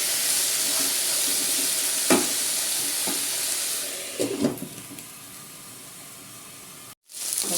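Ivy gourd (kovakka) stir-frying in a pan gives a steady close sizzle, with a few sharp scraping stirs in the middle and a brief cutoff near the end before the frying resumes.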